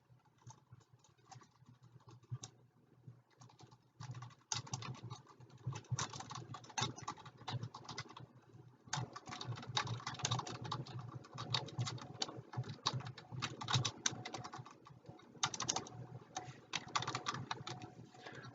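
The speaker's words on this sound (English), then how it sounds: "Let me finish typing this out" Someone types on a computer keyboard in steady irregular clatter, soft and close, with brief pauses between runs of keystrokes and no talking.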